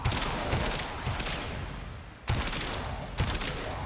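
Sepulcrum weapon in Warframe firing slowly, a few sharp, loud, close shots at uneven intervals over a dense, noisy combat backdrop.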